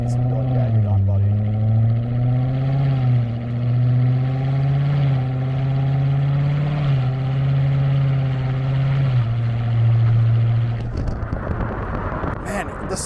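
A C7 Corvette Z06 engine holds a steady, loud low rumble at around 2,000 RPM from inside the car, its pitch dipping and rising slightly before cutting to a rougher blast near the end.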